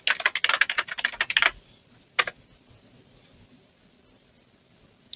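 Rapid keystrokes on a computer keyboard while working in Figma, a dense burst of typing for about a second and a half, then one lone click and quiet room tone.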